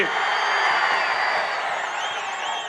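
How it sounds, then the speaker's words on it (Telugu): A large crowd at a political rally in Anantapur claps and cheers loudly, forming a dense, steady roar of applause that fades slightly toward the end. "హుషారుగా ఉంటే గట్టిగా చప్పట్లు కొట్టి హుషారుగా ఉన్నామని చెప్పండి"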